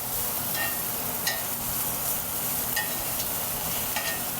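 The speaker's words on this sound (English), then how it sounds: "Meanwhile, we have our broccolini that I'm getting a nice char on in the pan." Broccolini charring in a cast iron skillet over an 18,000 BTU pro range burner, a loud continuous sizzle with a few brief bright clinks from the pan.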